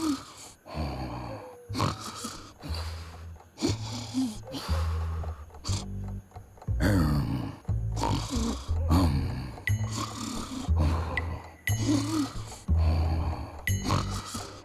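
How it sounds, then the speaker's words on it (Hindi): A man snores in bed on his wedding night, heavy rasping snorts repeating in irregular bursts, loud and close, with a few other faint noises between the breaths. "शादी के पहले रात को कोई खर्राटे मारता है"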